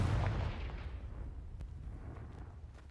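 A Confringo blast spell from the Hogwarts Legacy video game goes off as a single loud booming explosion that then rumbles and decays over a few seconds, with faint crackling debris afterward and no voices.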